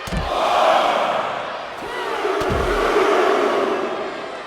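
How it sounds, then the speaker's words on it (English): A large arena crowd in WWE 2K25 roars and cheers continuously, a dense wash of voices that swells and ebbs, with a few deeper thuds beneath. "Taking a moment to get pumped off of this crowd's incredible energy."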